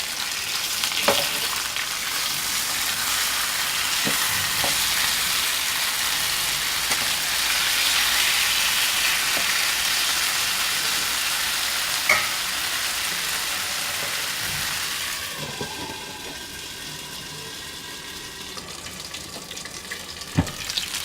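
Chicken tikka cooks in a covered pan, giving a steady, loud hissing sizzle with occasional small pops that softens and thins toward the end.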